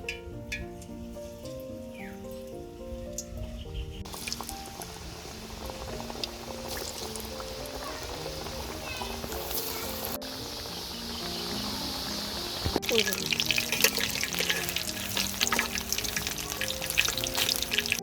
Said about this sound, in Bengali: তেলটা গরম হয়ে গেছে, এখন পিঠা দিয়ে দিব।